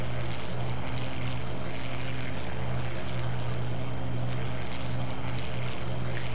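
A Bf 109 F4 fighter's piston engine in the IL-2 combat flight game drones loudly and steadily throughout, a continuous close propeller roar with no talk over it.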